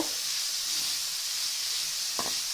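Green chillies sautéing in sesame oil for a poori potato masala, a soft, even sizzle and hiss running throughout with a brief utensil scrape near the end, no voices.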